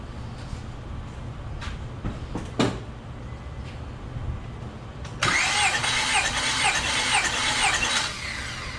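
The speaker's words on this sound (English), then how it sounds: "the engine's cranking over at the same speed the entire time" A car engine cranks over steadily on the starter during a compression test of the third cylinder, with a battery charger holding the cranking speed even; a brief clunk comes first, then loud, continuous cranking.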